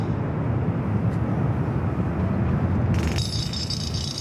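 An Air France airliner taxis at Los Angeles International Airport, its engines giving a loud, steady low roar, joined near the end by a brighter high-pitched whine.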